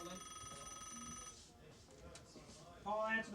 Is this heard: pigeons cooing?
no